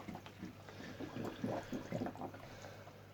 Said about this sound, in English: you can hear all the air bubbles coming out the pipe.